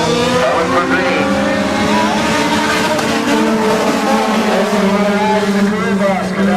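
Race cars at Crystal Motor Speedway, Michigan, roar past together in a loud, sustained engine drone with rising and falling pitch as several evenly matched cars accelerate around the track.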